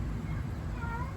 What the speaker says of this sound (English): that cat's not supposed to be outside